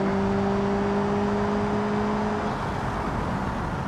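Car engine in the video game BeamNG.drive, a steady loud drone with a constant whirring tone that eases off slightly toward the end, heard alone.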